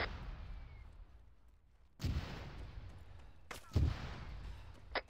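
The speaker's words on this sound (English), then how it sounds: "mortars inbound" Incoming mortar rounds in ArmA 3 land as a few distant, muffled thuds and cracks spread over a few seconds, faint against a quiet low background.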